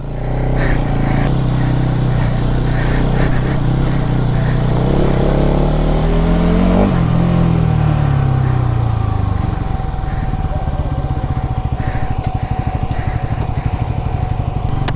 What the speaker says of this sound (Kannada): ಅಲ್ಲಿ ನೋಡಿ MTಯಲ್ಲಿ ಇಬ್ಬರು ಹೊಡಿತಾವ್ರೆ ಆಫ್ ರೋಡು.